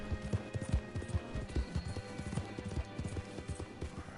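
Horse hooves clip-clopping in the Red Dead Online video game, a quiet, rhythmic stream of hoofbeats at a walking or trotting pace, with faint background game sounds.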